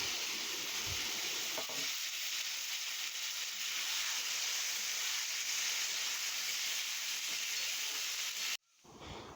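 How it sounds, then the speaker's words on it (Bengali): Diced potatoes fry in hot oil in a pan, giving a steady close sizzle and hiss that runs for several seconds before cutting off abruptly, then resumes more softly. "ওই তেলের মধ্যেই ডুমো ডুমো করে কেটে রাখা আলুগুনি ভেজে নেব ভালো করে"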